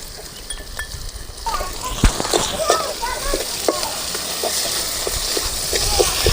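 Onions and green chillies sautéing in oil in a pan, a steady close sizzle with soft stirring scrapes throughout.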